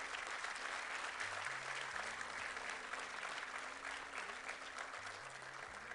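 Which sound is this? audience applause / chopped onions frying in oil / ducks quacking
audience applause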